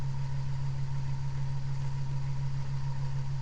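A homemade coil motor with copper windings and an aluminum part spins at about 400 RPM, making a steady, unbroken low hum with a faint higher tone above it, constant and fairly close.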